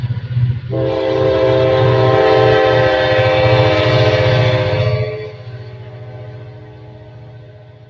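A Kansas City Southern train passes with a loud sustained horn blast lasting several seconds, over a steady rumble of rolling wagons that fades as the horn stops, no talk.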